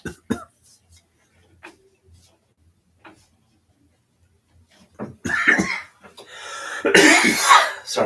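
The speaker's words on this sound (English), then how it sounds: "Sorry about the cough." A cough during a quiet kumihimo braiding session on a takadai: several sharp single coughs and throat sounds spaced apart in near silence, followed by louder coughing fits and breathy noise near the end.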